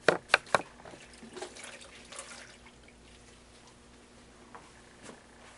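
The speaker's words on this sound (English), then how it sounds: "We're going to rinse." Water splashes and drips while a patient is rinsed during a nursing-assistant bed bath: a few sharp close splashes at the start, then faint trickling and occasional drips.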